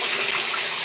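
Hot water gushes steadily into a bath, a dense, continuous hiss and splash that holds at a fairly loud level throughout, with no talking.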